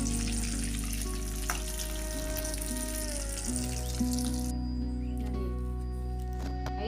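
Samosa twister snacks deep frying in hot oil, a steady bubbling sizzle that runs throughout with a constant low hum beneath it and no voices.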